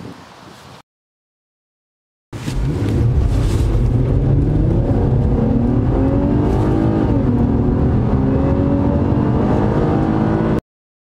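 Nissan Skyline 350GT V35 driving off, engine loud and close after a short gap, rising and falling through revs with a steady rumbling drone that continues for about eight seconds before cutting out.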